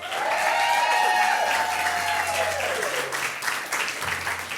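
A live audience at an event breaks into applause, a dense, loud burst of clapping that swells and then gradually thins out, with a voice calling out over it.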